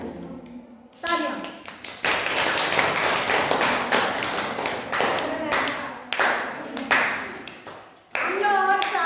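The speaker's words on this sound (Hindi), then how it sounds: "तालियां।" A classroom of students breaks into loud, dense applause, hand claps filling most of the stretch in several bursts with brief dips, after a short spoken lead-in.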